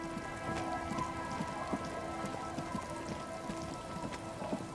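Rain falls across a scene in Disco Elysium as a constant wash of hiss with scattered droplet ticks, steady and moderately loud throughout, nobody speaking.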